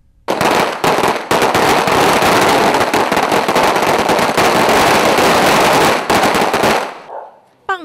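Firecrackers set off to celebrate a village award, a dense, loud crackling barrage of rapid bangs lasting several seconds before cutting off abruptly.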